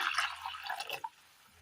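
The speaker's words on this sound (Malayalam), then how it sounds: "അടുപ്പത്തൊരു ചട്ടി വെച്ച് കൊടുത്ത് അല്പം വെള്ളം ഒഴിച്ചു കൊടുക്കാം" A short splash and trickle of water being poured into a pan, close and fairly quiet, ending with a single drip.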